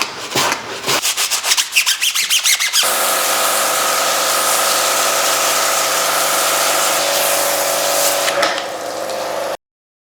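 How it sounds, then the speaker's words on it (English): A stiff brush scrubs back and forth along the edge of a dirty car tire during a deep wheel clean, rapid rubbing strokes at first, then a steady close hiss of agitation. "While I'm at it I'm going to focus on the tire edge as well and start agitating."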